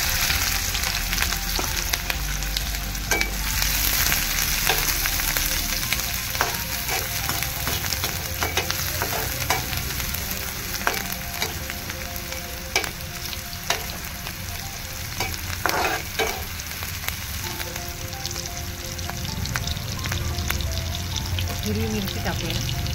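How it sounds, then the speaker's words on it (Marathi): Onion frying in hot oil in a pan, stirred now and then: a steady, close sizzle with scraping and clinking from the stirring utensil running throughout, loud and continuous. "कांदा टाकूया"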